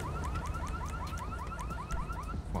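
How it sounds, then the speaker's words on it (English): A car alarm blares in GTA 5 inside a garage, a steady repeating electronic whoop cycling about every quarter second, loud and continuous across the whole stretch. "Come on, alarm. Stop going off."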